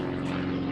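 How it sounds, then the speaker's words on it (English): A propeller airplane drones overhead outdoors, a steady, fairly loud engine hum that holds evenly through the whole moment with no voices. "And sorry about the plane."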